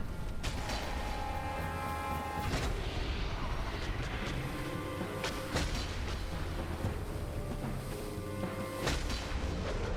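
Booming blasts from the Dark Souls video game, several sharp cracks spread across a dense, rumbling in-game soundscape, with a few explosive hits standing out over continuous low noise.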